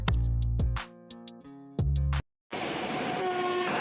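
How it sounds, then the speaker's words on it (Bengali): A train crosses a bridge near a flower garden, sounding loud, long, blaring horn blasts, then a steady rumbling roar of wagons rolling past after a brief gap. "ওই যে ট্রেন চলে যাচ্ছে বীজের উপর দিয়ে"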